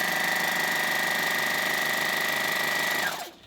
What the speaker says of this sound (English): it sucks the thread through and the needle is threaded